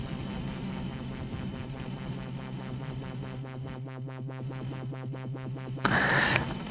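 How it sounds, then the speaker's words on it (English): A software synthesizer with its feedback control engaged, routing output back into input, giving a steady droning tone with a throbbing, pulsing texture and a brief noisy burst near the end, heard alone. "There's also this feedback command, which gets the output and puts it back into the input, obviously creating feedback"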